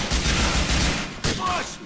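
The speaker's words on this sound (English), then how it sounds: "Just listen out to where these guys are shooting." Rapid bursts of gunfire in GTA IV crackle through a firefight, a dense fusillade of shots layered with game noise.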